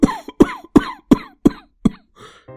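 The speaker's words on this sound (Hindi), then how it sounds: "मेरी तो खांसी भी नहीं रुक रही" A series of harsh, wet coughs, about six in quick succession, close and loud, in a smoke-filled house, followed by a fainter rustle and a brief tonal sound at the end.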